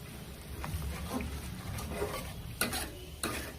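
Milk cream being stirred in a pan over gas heat as it melts into homemade ghee, with soft scraping and faint sizzling, a couple of sharper clinks near the end.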